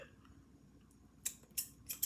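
Scissors snip sharply four times in the second half of the short clip, close and crisp against a quiet room, with no talking.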